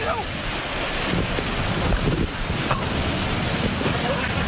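Wind buffets the microphone over ocean waves at a beach in Clearwater, a loud, continuous rushing roar of surf and gusts close to the mic.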